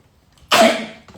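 A single sharp allergic sneeze bursts out of near silence, loud and close, then trails off quickly.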